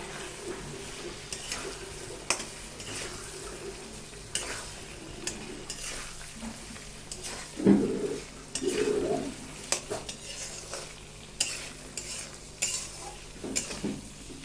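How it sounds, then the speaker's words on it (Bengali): Potato pieces stirred and fried in a spice masala in a pan, a low continuous sizzle broken by repeated scraping and clinking of a spatula against metal, close and irregular. "এবার আলু কটা দিয়ে একবার ভালো করে কষিয়ে নেব।"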